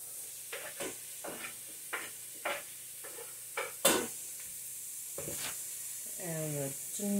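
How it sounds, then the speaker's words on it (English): Peppers and garlic hitting a hot soup pot, a series of short scraping stirs and sizzles that come at intervals, then a brief voice near the end. "Now we get to put in the peppers and the garlic."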